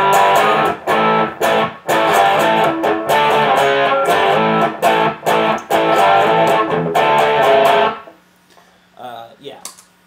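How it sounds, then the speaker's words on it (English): Electric guitar played through an overdrive pedal on its Kuzak setting, a hot Tube Screamer-style drive, giving loud distorted chords in bursts with short gaps that stop abruptly, followed by a brief faint tail of hum and noise. "the Kuzak setting is basically just a hot screamer pedal"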